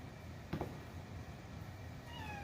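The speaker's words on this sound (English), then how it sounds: "I hear my cat meowing." A house cat gives a faint, brief meow or two in a kitchen, set against a steady background hum with no talking.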